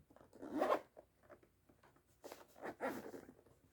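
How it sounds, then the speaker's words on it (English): Two quick zipper pulls on clothing, each a short rasping zip close to the mic, separated by a pause with faint small rustles. "let me zip properly here"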